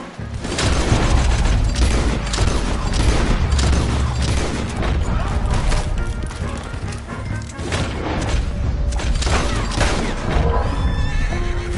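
Gunfire in Red Dead Redemption 2 crackles loud and dense among sharp horse whinnies and hoof clatter, with booming shots and bursts throughout.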